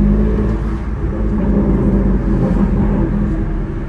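A BMW M4 CS engine drives along in a steady, loud, deep rumble with a low whir, held close and even for the whole stretch without clear revving peaks.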